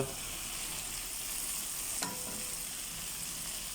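Ginger, garlic, green chili and spices frying in a pan give a steady, close sizzle with a faint stir scrape, holding an even level throughout.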